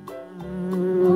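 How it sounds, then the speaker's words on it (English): Bee buzzing in a children's vocabulary song, a steady droning hum that grows slightly louder over about a second, close and alone. "Bee,"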